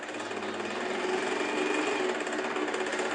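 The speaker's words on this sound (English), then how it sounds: "I'm gonna press the presser foot just a little, and you'll see my bobbin winding." A sewing machine winds thread onto its bobbin with a steady, even motor whir that runs unbroken and fairly close, with no talking.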